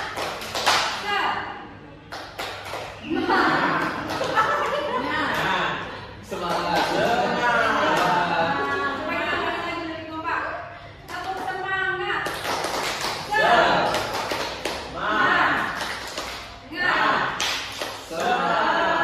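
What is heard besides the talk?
class clapping a rhythmic clap chant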